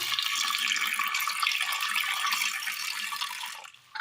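Water pours steadily into a pressure cooker holding horse gram, a continuous bright splashing stream heard close and alone, cutting off just before the end.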